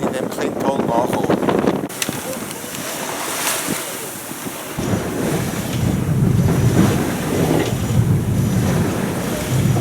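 A sailboat beats upwind at about five knots through rough Baltic sea toward Klintholm, with loud wind buffeting, rushing waves and hull splashes throughout, and a voice speaking briefly in the middle.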